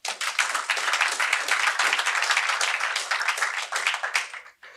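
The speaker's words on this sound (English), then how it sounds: "Let's give them a moment of applause" Applause from an audience at the launch of a South African mining extraction research and innovation programme fills the room, a dense, even wash of clapping that holds steady before tapering off abruptly at the end.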